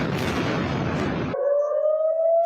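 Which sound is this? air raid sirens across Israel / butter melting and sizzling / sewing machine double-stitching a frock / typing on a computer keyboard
air raid sirens across Israel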